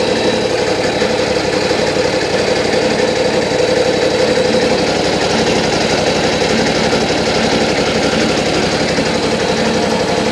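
A Turbosawmill's engine runs steadily and loudly throughout as the sawhead is wound down 12 inches, with a constant droning hum and a rough, knocking idle that never lets up.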